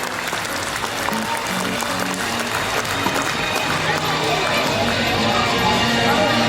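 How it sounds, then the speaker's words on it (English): Sustained applause from an audience at a school annual awards ceremony, a steady dense wash of clapping with a faint murmur of crowd voices underneath. "Give him a big round of applause."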